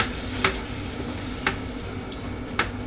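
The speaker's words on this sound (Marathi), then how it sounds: "मसाल्याला तेल सुटेपर्यंत चांगलं फ्राय करून घ्यायचं." Chicken masala spices frying in oil, a faint steady sizzle with three sharp spoon clicks against the pan as the mix is stirred, no talking.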